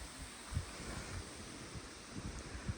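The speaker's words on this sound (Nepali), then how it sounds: "हावा चाहिँ मस्त आउँदो रहेछ जे होस्" Soft, steady wind rushes past the microphone, low and continuous with occasional gentle buffeting thumps.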